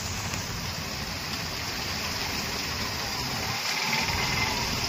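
Heavy rain pours down outside a house during a storm, a steady, dense roar of falling water that stays loud and unbroken throughout, with no talking.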